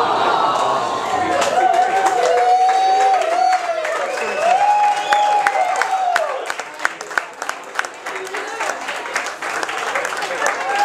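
Wedding reception guests clap in a full, sustained round of applause mixed with cheers and whistles, thinning into scattered individual claps toward the end.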